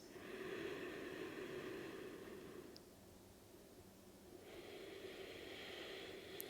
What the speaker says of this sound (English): let's go through a couple of long inhales and exhales